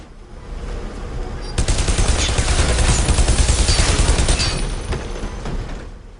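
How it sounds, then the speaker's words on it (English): Sustained assault rifle fire in the Bodycount video game on Xbox 360, a long loud burst of rapid shots after a quieter start, dense and continuous before tapering off at the end. "It'll absorb clip after clip from this assault rifle"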